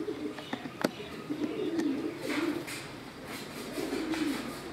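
Rampuri pigeons coo in soft, repeated low throbbing calls, close by and steady, with faint outdoor background noise and occasional clicks.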